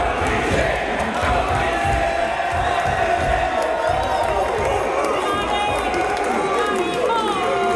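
A wrestling arena crowd roars continuously on its feet, loud and dense cheering with whoops and shouts throughout, a commentator speaking over it.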